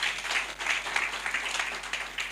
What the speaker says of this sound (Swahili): Pigieni Pastor Magi makofi.